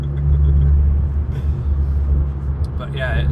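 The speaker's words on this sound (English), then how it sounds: "I can't get over how good this car sounds." A Ford Focus ST's engine gives a steady, deep low rumble at close range, with a faint higher tone near the end.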